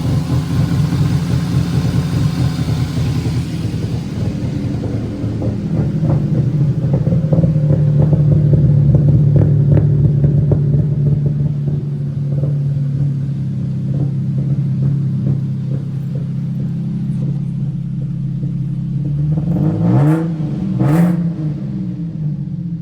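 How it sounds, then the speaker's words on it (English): An Infiniti G37 engine rumbles at a steady idle, then revs up in a brief burst near the end, a deep, close, continuous engine drone. "it sounds like it's cam. The motor sounds good,"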